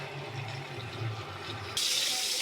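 Yardlong beans are washed under running tap water with a soft, steady trickle that turns abruptly into a louder, brighter gush for the final moments.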